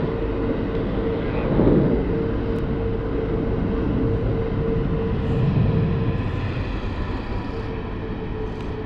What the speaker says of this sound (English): we've got Asiana Airbus A380 taxiing out to 34 left at the moment